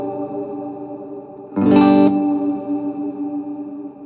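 Sustained guitar chord through an M-VAVE Mini Universe reverb pedal set for a long reverb tail, a fresh strum swelling in and then lingering as a smooth, slowly fading wash.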